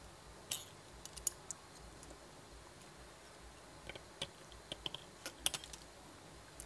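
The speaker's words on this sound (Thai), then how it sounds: "ขออภัยที่ว่ากรรไกรไม่ค่อยจะคมนะครับ" Blunt scissors cut material in a quiet room, giving sparse, faint, sharp snipping clicks scattered irregularly across several seconds with no talking.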